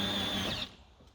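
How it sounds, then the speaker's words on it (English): A cordless power drill whirs steadily while cranking a pickup camper jack, then winds down and stops partway through, leaving quiet room tone. "using a drill is a whole lot faster than the hand crank that comes with it"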